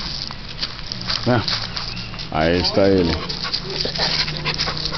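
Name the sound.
pit bull dog whimpering and panting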